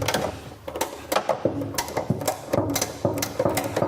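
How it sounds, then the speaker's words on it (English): Ratchet handle winding up a car jack under a raised vehicle, a quiet series of repeated clicking strokes in an uneven rhythm, close and alone. "we need to raise the vehicle up, which we do by winding the jack up with the ratchet handle"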